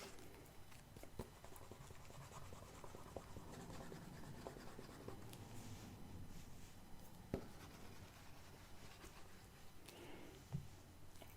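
Soft, close scratching and rubbing as writing is erased from a board in a quiet, gentle setting, steady and continuous with a few small taps and no talking.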